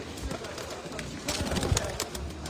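Pigeons coo softly in a loft holding a racing team of eleven birds, low murmuring calls under a steady background hum with some faint voices nearby.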